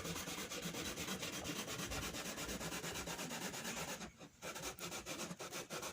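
A mitre saw cuts through wood in fast, rhythmic back-and-forth strokes, loud and close, pausing briefly before resuming.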